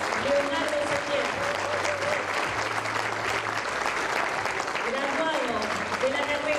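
Steady crowd applause for a music graduate at a university graduation ceremony, continuous dense clapping filling a large room, with scattered voices and whoops underneath.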